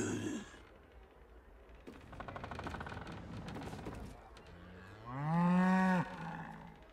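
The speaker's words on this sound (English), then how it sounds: "It appears to be an ordinary sheep." A sheep in Baldur's Gate 3 gives one loud, wavering bleat near the end, preceded by rustling and scattered game sounds.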